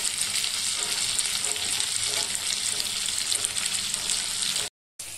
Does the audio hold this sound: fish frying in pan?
yes